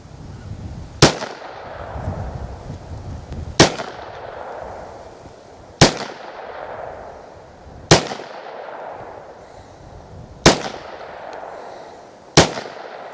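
Federal Premium Punch .22lr rounds fired from a P322 pistol: six sharp, loud shots spaced about two seconds apart, each with a short ringing decay, and no talking between them.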